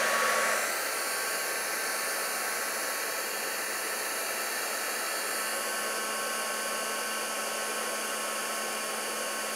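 A heat gun blows a steady, even hiss of hot air over embossing powder on a craft card. It runs close and loud without a break for the whole stretch, with no talk over it.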